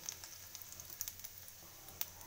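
Whole cumin and two bay leaves hit hot oil for a tempering, giving a faint, steady crackling sizzle with small scattered pops, quiet and close with no voices.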